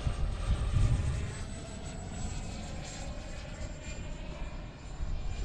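A Freewing Cougar RC jet flies at wide open throttle, its steady high whine and rushing drone holding at a moderate distance with a slight swell near the start.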